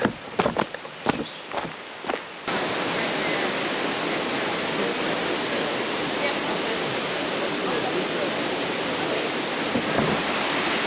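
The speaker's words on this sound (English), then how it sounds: "We are at one of the waterfalls." A waterfall at Loyalsock roars as a dense, steady broadband rush after a few seconds of footsteps and brief talk, continuing loud and unbroken to the end.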